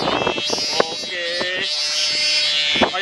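A humming double sendaren noisemaker on a Bebean 100 cc kite buzzes like a racing motorbike with a loud, steady, reedy drone that wavers in pitch as the wind gusts, broken by a few sharp clicks.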